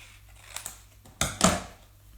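Scissors cutting a piece of card to size: two light snips followed by two louder, sharper cuts close by, with quiet room tone between.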